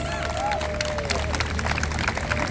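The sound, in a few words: crowd applause at a protest rally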